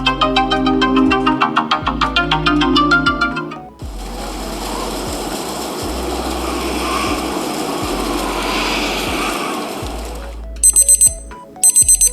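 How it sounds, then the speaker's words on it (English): Sleep Cycle iPhone app alarm tones: a rapid repeating electronic beeping melody, then a sustained textured swelling sound, and finally short bursts of bright chiming beeps, loud and close with no talking. "here's where Sleep Cycle outshines the rest, the alarm sounds"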